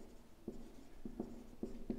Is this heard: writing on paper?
yes